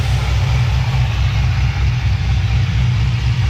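A modified car engine fitted with a bigger throttle body and different injectors, untuned, idles unevenly with a low, steady rumble that wavers slightly, heard up close and alone.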